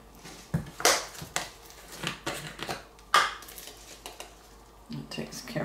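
A container of grated cheese is shaken and sprinkled over Polish sausage soup, giving a series of irregular rattling, tapping knocks close by, with faint background room noise and no speech.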